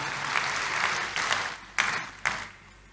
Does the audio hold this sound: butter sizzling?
no